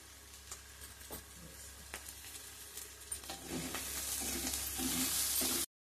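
Bitter gourd pieces frying in a pan with curry leaves and garlic added, a quiet sizzle with sparse clicks that swells into a louder hiss before cutting off.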